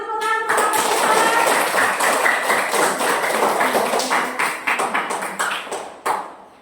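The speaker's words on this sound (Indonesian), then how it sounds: "Udah selesai, tepuk tangan." Classroom applause from a group of students after a group presentation, a dense burst of clapping that fades into a few scattered claps near the end, with a voice briefly heard at the start.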